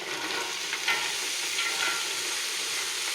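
Potatoes and celery simmering in a pot for celery soup give a steady close sizzle and hiss with faint stirring, no voices.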